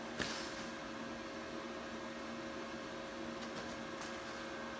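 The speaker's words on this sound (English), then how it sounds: "It has its own fan that keeps running, I imagine, until it's cooled." A CUT45 plasma cutter's cooling fan runs on after the compressor is shut off, a steady, fairly faint whir and hum holding level through the whole stretch with one brief knock near the start.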